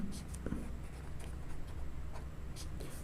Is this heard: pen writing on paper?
yes